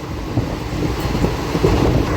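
The Palnadu Express runs without stopping past a small station, a steady close rumble of carriage and wheels with faint rhythmic clacks and no talk.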